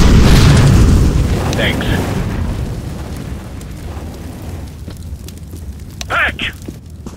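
A fire grenade in CS:GO bursts with a loud, heavy whoosh that fades into a lower crackling roar of burning, while a voice speaks briefly and short game beeps come through near the end.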